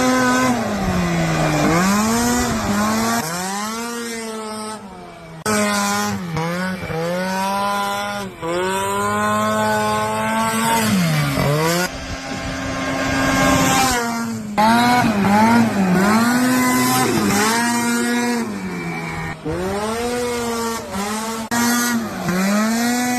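A Honda Pilot fitted with a 670 Ski-Doo snowmobile engine drives hard, its high-pitched engine revving up and down repeatedly with quick shifts between loud, close, aggressive pulls.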